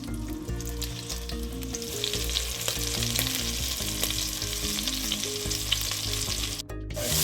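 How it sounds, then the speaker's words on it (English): Pork cheeks fry in a casserole with a steady, close crackling sizzle that runs throughout, with a brief dip near the end; no voices. "I'm just gonna fry these off in my casserole until they're nice golden brown."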